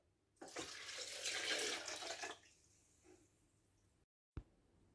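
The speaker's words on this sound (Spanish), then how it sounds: "Le agregamos medio litro de agua." Half a litre of water pours into a food processor holding blackberries, a close splashing stream lasting about two seconds, then quiet drips, a silent gap, and a short sharp knock.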